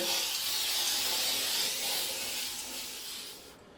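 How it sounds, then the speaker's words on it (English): Bathroom cleaner sprays onto shower tile in a continuous airy hiss, close and fairly quiet, fading slightly toward the end before cutting off. "Just going to spray the tile down with this bathroom cleaner"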